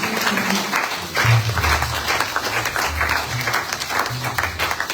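A church congregation at a Sunday service claps in praise, a steady mass of applause at moderate level with low murmuring voices and some tonal sound mixed in.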